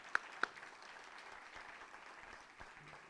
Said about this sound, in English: So a round of applause for every student who has ever passed through the doors of this great university.